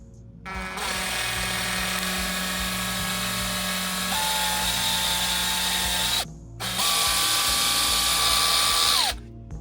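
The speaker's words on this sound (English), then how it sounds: "I'm running the drill bit for a while not pushing it any further in" A power drill whines steadily as a 5/32 bit grinds into metal, loud and close, with the pitch dropping under load and a brief pause before it resumes.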